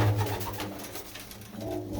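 Pigeons at a rural fair in Punjab coo steadily, a low soft burbling close by that continues alone through the whole stretch.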